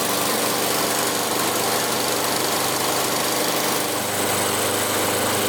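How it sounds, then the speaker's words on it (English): A Honda HRR walk-behind lawnmower engine with a newly installed carburetor and sharpened blade runs steadily at close range, a loud, even buzzing drone with a slight shift in tone near the end. "So the motor is running really good."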